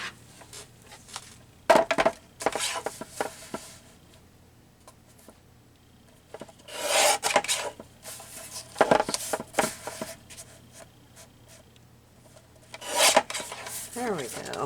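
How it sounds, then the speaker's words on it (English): A paper trimmer slices through paper in several separate rasping strokes, each a short, close scraping slide with quiet pauses between. "I can do it on my trimmer and get it straight"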